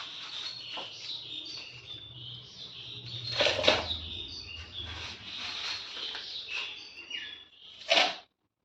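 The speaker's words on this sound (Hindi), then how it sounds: "आप सबको ये चिड़ियों की चहचहाने की आवाज़ सुनाई दे रही होगी" Small birds chirp and tweet almost continuously at close range, with a few louder, sharper calls standing out from the chatter.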